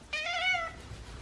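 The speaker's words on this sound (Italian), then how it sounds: "Un'ora senza gatto Denver e gatta Stellina" A single cat gives a clear, close meow lasting about half a second in a quiet room.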